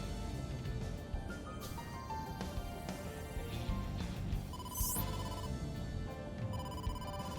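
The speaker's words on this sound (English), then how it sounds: "incoming call from the boss" A phone rings for an incoming call in the video game AI: The Somnium Files, a repeating electronic ringtone over a busy game soundscape with brief tonal accents and a sweeping chime, steady and fairly quiet, with no talk.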